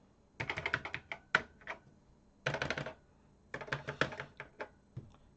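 Keys clatter on a Memotech MTX 500 computer keyboard in three quick bursts of sharp, close clicks separated by short silent gaps.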